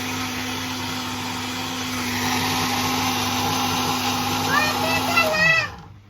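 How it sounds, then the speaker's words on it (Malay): A blender motor whirs steadily for several seconds blending pandan leaves, then winds down and stops. "Ni kita nak blender daun pandan untuk buat gula melaka, onde-onde."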